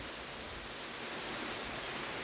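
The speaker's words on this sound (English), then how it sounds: "St Audries Bay Waterfall" Waterfall at St Audries Bay on the Severn shore, a steady dense roar of falling water filling the whole stretch with no breaks or voices.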